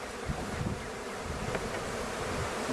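Honey bees from a package hum in a Langstroth hive, making a dense, steady buzzing swarm that sounds close and even throughout, with no voices.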